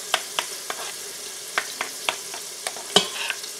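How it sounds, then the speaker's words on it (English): Two eggs are scrambled in a tiny frying pan, with a soft sizzle under a regular run of close spatula taps and scrapes and one louder knock near the end. No one speaks. "And you can see I'm scrambling these eggs here"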